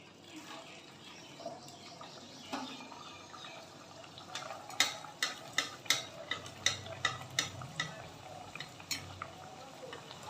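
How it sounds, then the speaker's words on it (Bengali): Jackfruit-filled kachoris slid one by one into hot oil, a low bubbling fry at first, then a quick run of sharp spoon or ladle clinks and scrapes against the pan, close and fairly quiet. "এবার আমি কচুরিগুলো আস্তে আস্তে গরম তেলে ছেড়ে দেবো।"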